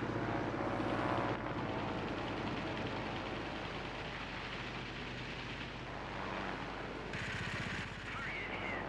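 Propeller warplane engines drone steadily through a crowded World of Warplanes dogfight, a continuous loud roar with bursts of machine-gun fire mixed in.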